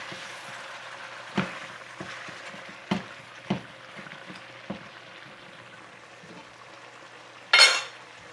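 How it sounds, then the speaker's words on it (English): Jamaican chicken back frying in a pot while being stirred, a low steady sizzle broken by several soft scraping knocks of the spoon and one louder clatter near the end, with no talking. "So we're gonna give it one final stir and then add some water to it."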